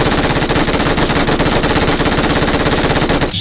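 Machine gun fire in a zombie mode shooter game, a loud, rapid, unbroken burst of closely spaced shots lasting a few seconds before cutting off abruptly.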